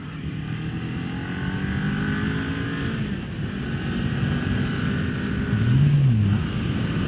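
A 2022 Kawasaki Ninja 400 ridden through fall mountain roads in Virginia, its engine droning steadily with wind rush, rising briefly in pitch near the end, with no talk.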